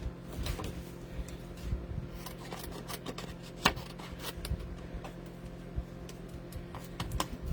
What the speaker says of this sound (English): so I need a pair of scissors.